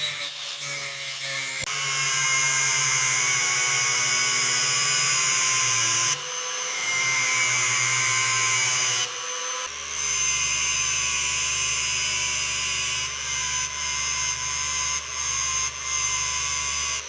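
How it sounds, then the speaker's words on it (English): A grinder takes rust off a 1968 Alfa Romeo 33 Stradale, a steady high-pitched whirring whine that runs almost without a break and changes tone a few times as the tool shifts pressure and speed. "Let's see how this grinder holds up."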